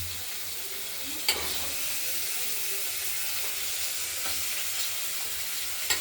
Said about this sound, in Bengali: এই ফোড়নের সঙ্গে ভাজা ভাজা করব।